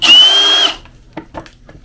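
A power drill drives into wood during tiny-house carpentry work, one loud steady whine that winds down after under a second, followed by faint handling clicks and knocks.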